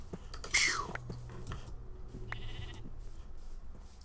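A sheep in Minecraft gives one short, clear bleat near the start, then the game goes quiet apart from soft clicks and low background hum.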